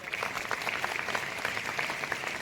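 Sustained applause from a school gathering honouring students selected for a scholarship exam, steady dense clapping at moderate level with no break.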